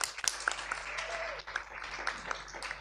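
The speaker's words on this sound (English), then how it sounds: "And applause as well." Applause at a conference session, a light scattering of hand claps from a small audience, faint and somewhat distant, with a few sharper close claps among them.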